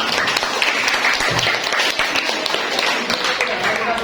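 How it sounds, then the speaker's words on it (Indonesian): Members of a class clap together in a lively round of applause, with voices mixed in beneath the clapping throughout. "Tepuk tangan."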